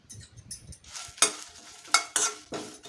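Curry leaves, mustard seeds and cumin frying in hot oil for jackfruit sambar, with sizzling bursts and stirring scrapes recurring every half second or so, close and moderately loud.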